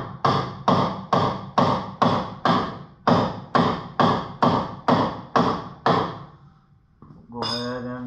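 A dead blow hammer strikes an axle part under a 2006 Mega Cab pickup during a lift install, landing about twelve loud, evenly spaced close blows before a pause and then muffled mechanical rumbling.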